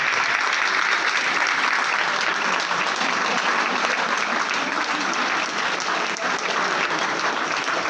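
Sustained, loud applause from an audience at a chemistry test series prize distribution, clapping continuously for three students as they come up to the stage.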